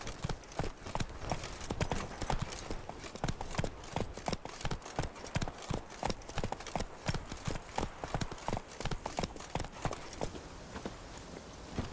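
Hooves of the horse Roach galloping in the video game The Witcher 3, a steady rapid clip-clop rhythm, close and continuous, with a faint whoosh of wind behind it and no voices.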